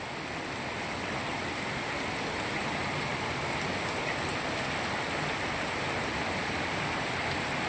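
Heavy monsoon rain pouring steadily in Gujarat, a dense unbroken hiss of falling water at even loudness throughout, with no voices.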